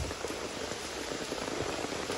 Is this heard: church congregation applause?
no